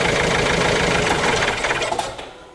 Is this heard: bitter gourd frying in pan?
no